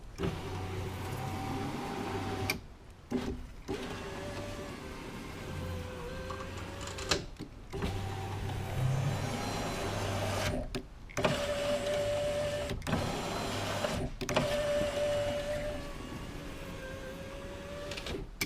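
A Chevrolet Suburban/Tahoe power window motor runs after a regulator repair, whirring up and down repeatedly in strokes of several seconds, each ending with a brief thunk, heard close inside the door with no talking.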